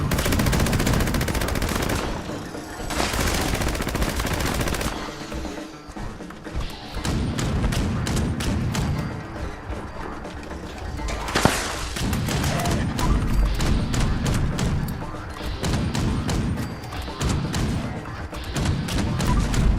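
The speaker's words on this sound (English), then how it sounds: "I'll just go with the Gatling gun for now" Gatling gun in Fallout 76 firing long sustained bursts of rapid, loud shots, broken by brief pauses and a few heavy thumps and impacts, continuous for the whole stretch.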